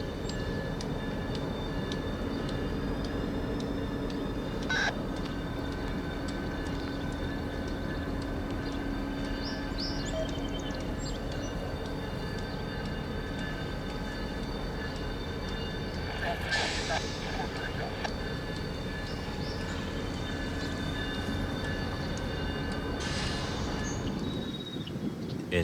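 Steady low diesel rumble of a New England Central locomotive idling and creeping along in a rail yard in western Vermont, with faint distant birds and occasional squeals over a constant mechanical hum.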